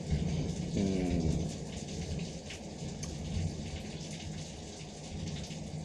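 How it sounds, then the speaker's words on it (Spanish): Steady rain pours down while thunder rumbles low in the distance, a continuous stormy wash with no voices. "como veis estamos en día de tormenta"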